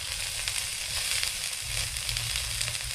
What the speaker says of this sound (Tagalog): igisa na natin ang ating bawang at sibuyas